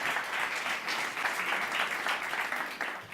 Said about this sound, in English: Please, Paul Meissner, a big applause